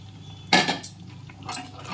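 Coconut barfi mixture being stirred in a pan, a spoon scraping and clinking against the metal in a loud burst followed by several softer strokes and a second burst near the end.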